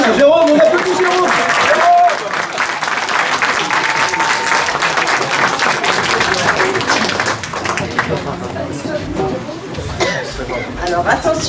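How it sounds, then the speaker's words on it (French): A crowd at a live street show in Paris breaks into loud, sustained clapping for a volunteer, with a few coughs and voices talking and chattering through the applause. "on applaudit Jérôme"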